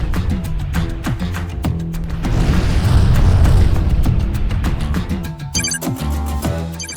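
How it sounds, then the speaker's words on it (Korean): A volcanic eruption's deep, booming roar swells through the middle of the stretch and then subsides, heard beneath steady rhythmic background music. "화산이 폭발한 것이다."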